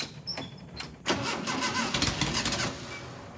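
An abandoned dune buggy's engine cranks on the starter motor in a close, rhythmic whirring churn. It does not catch, with a brief lull before the cranking resumes.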